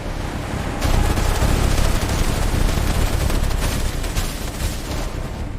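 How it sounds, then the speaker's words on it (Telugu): Heavy gunfire from a staged ambush on an army convoy in an action short film: a sudden dense barrage of rapid shots and crackling bursts that starts about a second in and continues loudly without pause. "భారీగా కాల్పులు ప్రారంభించారు."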